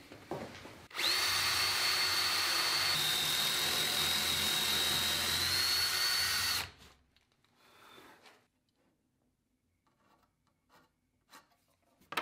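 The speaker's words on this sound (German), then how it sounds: "Eigentlich müsste ich jetzt ein Loch in diese Platte bohren." A drill press boring a hole through a board hums loudly and steadily for about six seconds with a rising whine, then stops, leaving faint workshop clatter and small knocks.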